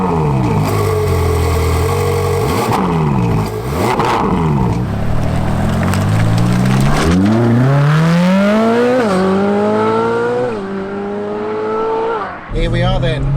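Ferrari 458 Speciale Aperta with the roof down, its engine roaring loudly and revving up through rising gear sweeps while driving, close and dominant, with a person talking over parts of it.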